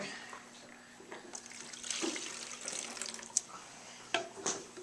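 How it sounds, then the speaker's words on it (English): Water poured from a tap or container onto borax powder in a kindergarten science demonstration, a soft running splash with a few sharper spikes and clinks near the end, fairly quiet and close. "Now, I'm going to put the borax powder in. Then the water."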